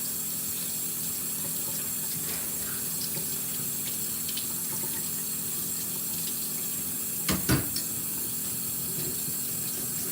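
Water runs steadily from a faucet into a sink outdoors, a constant hiss with a brief louder splash or clunk near the end.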